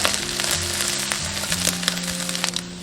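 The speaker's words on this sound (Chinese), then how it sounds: "锅中倒少许食用油，下入虾米、干贝炒香" Chopped dried shrimp and dried scallops stir-fry in a little cooking oil in a wok, giving a continuous crackling sizzle with sharp pops and scrapes. Quiet background music plays under it.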